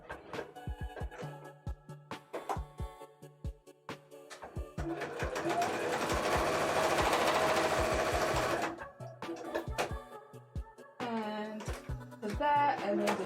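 A sewing machine stitches a cosplay costume in short bursts of rapid mechanical chatter, then a longer steady run, with soft handling noises and someone talking in between.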